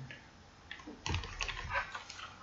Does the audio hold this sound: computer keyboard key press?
yes